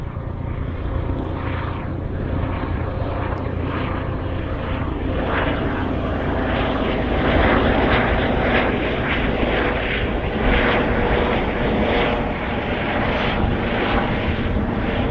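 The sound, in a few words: helicopter flying overhead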